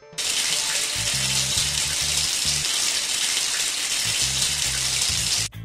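Steady shower water runs loud and close in a continuous hiss throughout, with a faint low voice or hum weaving in beneath the spray.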